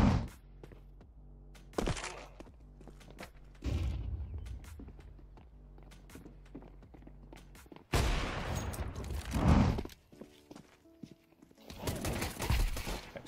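Gunfire in the competitive shooter Counter-Strike 2: scattered sharp thunking shots and short volleys, some close and loud, others quieter, separated by stretches of footsteps and game movement.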